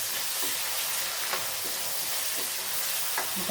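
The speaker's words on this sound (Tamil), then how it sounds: "தக்காளி பழமும் நல்லா வதங்கணும்." Tomato sautéing with onions in oil for a crab gravy, a dense, loud, close hiss of frying with a few soft stirring knocks, and no voices.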